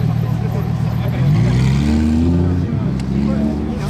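A red Porsche GT2 RS drives past on cobblestones in Paris, its engine tone rising and falling close by over steady street noise, with people talking throughout.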